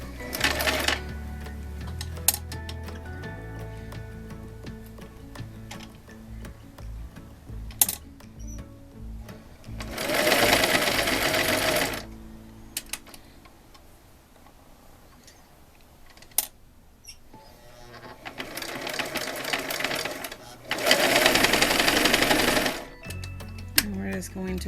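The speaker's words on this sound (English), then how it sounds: "So I'm going to go ahead and get sewing." Sewing machine stitching quilt fabric for a flying geese scrap quilt block, running in several loud bursts of steady whirring with pauses and small handling clicks between runs.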